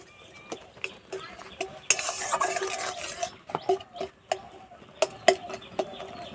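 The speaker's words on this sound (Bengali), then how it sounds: "টমেটোটা খুন্তি করে এইভাবে ঘেঁটে নেব।" A spatula scrapes and taps through boiled tomatoes with sugar in a pot, irregular clacks and knocks close by with a brief burst of wet squelching, for a tomato chutney; no talk.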